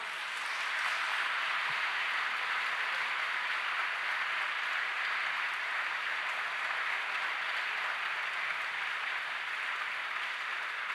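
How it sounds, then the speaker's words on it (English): Steady, sustained audience applause fills a book launch hall, dense and even from start to finish with no voices rising above it. "please give her another round of applause."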